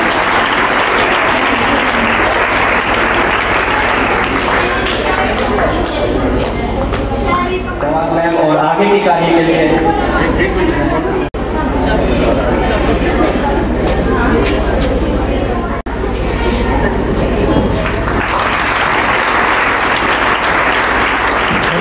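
Loud, continuous applause fills the hall at a talent award ceremony, with an amplified voice speaking over the clapping partway through before the applause swells again.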